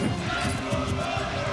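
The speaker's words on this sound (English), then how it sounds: "the crowd is chanting" A crowd chants in unison for the Luigi player Donut at a UFA 2024 Super Smash Bros. Ultimate tournament winners quarter-final, a dense, steady roar of many voices filling the whole moment.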